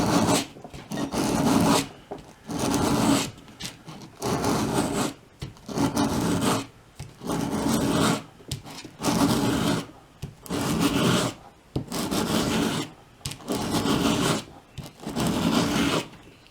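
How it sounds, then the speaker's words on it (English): A knife's convex edge is stroked against sandpaper in a steady series of about eight rhythmic rasping passes, each roughly a second long with short gaps between, close and fairly loud with no talking. "My sandpaper is beginning to bog down"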